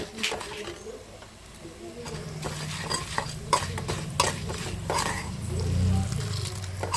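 Ingredients for chutney frying in a pan while being stirred, spoon clinks and scrapes over a low sizzle, close, with background voices and some clatter throughout.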